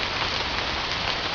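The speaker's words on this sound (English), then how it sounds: "So listen to the rain." Steady rain patters densely on leaves and surfaces in the woods, a continuous even hiss with no breaks, close and enveloping.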